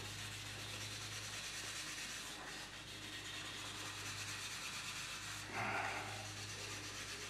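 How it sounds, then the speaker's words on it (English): Steel wool, grade 0000, rubbing steadily across a turned walnut bowl with raised grain, a continuous broadband scratching hiss with a brief louder scrub near the end, close and alone. "burnish it with the 4-aught steel wool"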